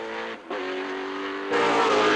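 Can-Am race cars at Mosport Park in 1981, engines droning at a steady high pitch with harmonic whine, a brief dip before swelling louder as a car nears, loud and continuous with no talk.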